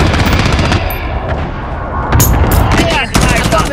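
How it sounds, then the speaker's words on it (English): Battlefield combat in the video game Call of Duty: Modern Warfare: dense, continuous gunfire with loud bursts and booms from a precision airstrike, a steady barrage throughout with heavier blasts near the end. "Enemy precision airstrike."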